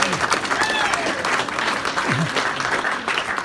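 An audience at an accordion showcase gives a steady, full round of applause with a busy crowd texture, while voices call out and talk over the clapping.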